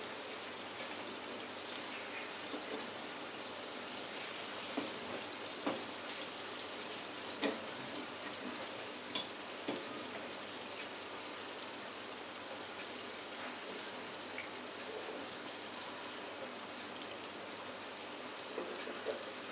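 Unniyappam fritters frying in hot oil, giving a steady, even sizzling hiss with occasional small pops and crackles, close and continuous, with no talking.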